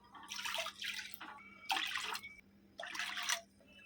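Three cups of water pour in three separate bursts, splashing and gurgling into a wide pot, close and fairly quiet, with short pauses between.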